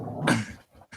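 A dog gives a short, close growl with a rough snarl, followed by quieter huffs, and no one talks over it.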